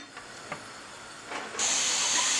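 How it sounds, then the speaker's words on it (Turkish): Chickpeas simmering in a pot on a stovetop over medium heat, a soft hiss with a few faint clicks that rises into a loud, steady steaming rush partway through. "Orta ateşte nohutlarımızı yaklaşık bir saat, buçuk saat kadar haşlıyorum."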